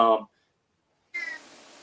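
A cat gives two short meows, one clear and close at the start and another after a brief silence, with a faint hiss of room noise behind the second.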